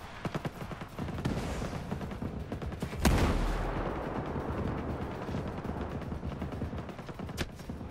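Rapid bursts of gunfire in Ghost Recon Breakpoint, a dense crackle of repeated shots with one loud blast near the middle, heard without talk.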